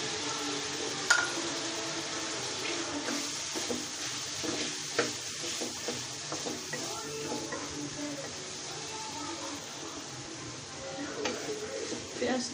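Chopped onion, garlic and green chili with fish sizzle in a pan. A soft, steady frying hiss is broken by occasional clicks and scrapes of stirring.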